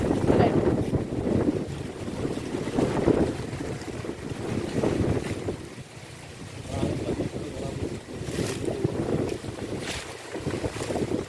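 Steady wind blusters across the microphone outdoors at a glutinous corn field, a loud, continuous rumbling buffet with rising and falling gusts and little speech.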